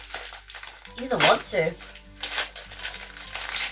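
Sellotaped gift wrap being torn and crinkled open by hand, with short bursts of papery rustling and crumpling that come and go under a person talking close by.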